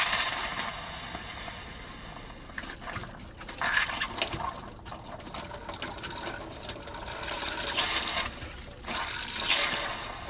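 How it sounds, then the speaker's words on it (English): An RV water pump runs with a steady watery hiss and whir, louder broadband rushing bursts rising and falling over about ten seconds, no voices. "I got the water pump going, but there's no water just yet."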